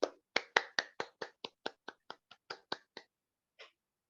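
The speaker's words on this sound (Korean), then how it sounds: "이럴 때 뭐 박수 한번 치시고" A few people clap at a short break in a lecture: about a dozen crisp, separate claps in a quick run, then a pause and one last clap, close and fairly light.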